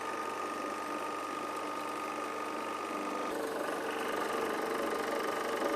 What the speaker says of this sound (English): Start the recovery unit.